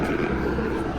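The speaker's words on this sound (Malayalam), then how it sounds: "ഹെലികോപ്റ്റർ പോണേ." A helicopter passes overhead in Pokhara, heard as a steady, dense low rumbling drone with throbbing rotor texture, fairly loud and continuous for a brief moment, with no voices.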